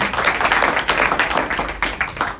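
An audience claps and applauds at a weekend love feast programme, a dense, lively burst of many hands that carries on steadily for a couple of seconds.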